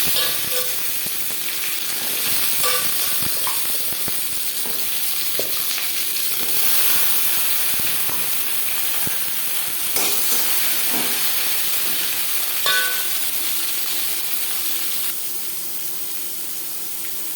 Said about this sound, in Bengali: জিরে ভেজে নেওয়ার পর দিয়ে দেবো পেঁপে